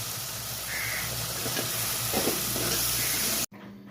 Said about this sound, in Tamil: தக்காளி நல்லா கரையிற வரைக்கும் வதக்கி விடுங்க